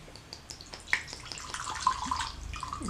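E&J VS brandy pours from the bottle into a glass, a steady close trickle of liquid that swells and gurgles over a few seconds without any talk.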